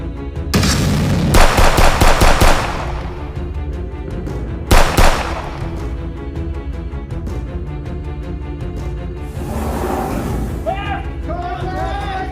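Gunfire rings out during a firearms training drill: a rapid burst of several close, loud shots, then a couple more single shots, with shouting voices over the noisy scene.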